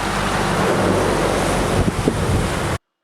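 A fast-flowing river in Punakha, Bhutan rushes with a loud, continuous broadband roar that stays steady before cutting off abruptly.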